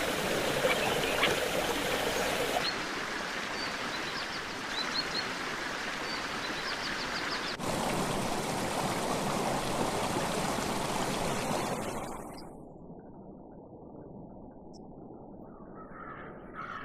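Freshwater stream of the En-Gedi springs, an oasis in a barren landscape, rushing steadily as a dense, loud broadband wash, with faint bird calls above it and a quieter stretch of flowing water near the end.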